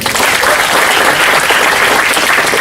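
Loud, dense applause from an audience at an Indonesian educational talk, a steady unbroken wash of clapping with no break.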